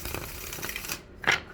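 Tarot cards shuffled by hand: a fast, close papery riffle lasting about a second, then a short pause and one final sharp snap of the deck.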